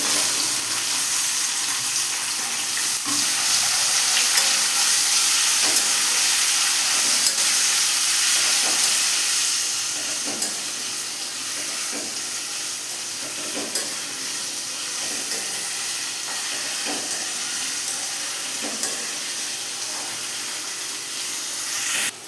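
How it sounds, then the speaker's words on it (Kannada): Onions sizzling in hot oil right after mustard seeds have popped, for masala dosa filling: a steady, dense hiss with faint crackles, continuous and fairly loud throughout, no voices. "ಸಾಸಿವೆ ಪಟ ಅಂದ ತಕ್ಷಣ ಈರುಳ್ಳಿ ಹಾಕ್ತಾ ಇದ್ದೇನೆ"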